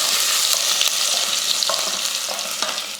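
Mustard seeds, urad dal, three dried red chillies and crushed garlic crackle in hot oil as a tempering for rasam, a loud, dense, continuous sizzle up close with faint stirring knocks and no speech.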